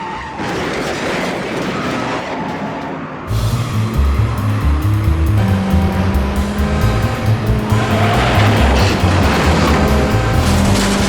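A car chase from the film The French Connection: a roaring engine and squealing, skidding tyres, with a louder burst of engine revving and passing traffic partway through, continuous and close.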